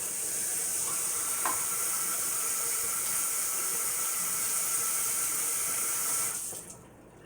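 Tap water runs steadily into a kitchen sink while food is rinsed, a constant hissing stream at moderate distance that cuts off near the end.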